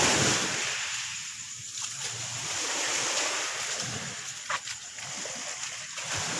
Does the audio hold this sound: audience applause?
no